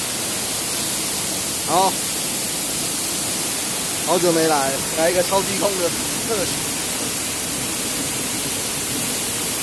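Aohua Waterfall in Taiwan pours into a clear pool with a steady, loud, unbroken roar that fills the whole scene, while someone speaks briefly over it.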